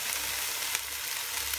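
Food cooking in a pan with wild rice, cream, fresh tomatoes, parsley and chopped spring onions, giving a steady, close, loud frying sizzle with no voices.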